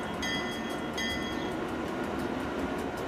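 A train in the video game Transport Fever 2 rumbles along at slow speed, a dense steady roar of rolling wheels and engine with brief high metallic squeals near the start.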